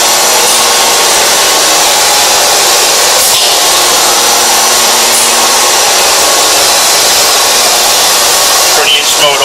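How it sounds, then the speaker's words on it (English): An 1100-ton press runs loud and continuous, a broad hissing mechanical roar from the ram moving up and down, with faint knocks and clanks near the end. "Ram goes up, ram goes down."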